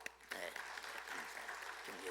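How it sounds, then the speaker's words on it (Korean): Congregation applause during a church service: a brief, steady patter of many hands clapping together, moderately distant and fairly soft throughout. "다 같이 박수로"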